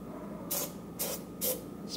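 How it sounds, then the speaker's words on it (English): Three short, evenly spaced hissing bursts of starting fluid sprayed into the carburetor of an old Evinrude Fisherman 6 hp boat motor, over a low steady background hum. "spray some in the carburetor"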